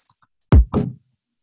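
One punchy drill-style snare drum sample hit with a deep, booming low end, followed by a second, brighter hit; close, loud and dry, then silence.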